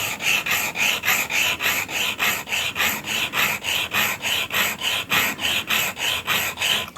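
An L-shaped router plane blade is rubbed back and forth on a sharpening stone with fluid, giving a steady rhythm of about twenty close, wet, rasping strokes with no talk.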